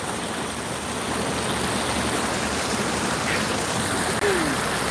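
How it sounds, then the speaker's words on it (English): McMillan Creek flows in a steady, close, full rushing wash of water, broadband and unbroken for the whole few seconds, with no talk over it. "The beautiful McMillan Creek."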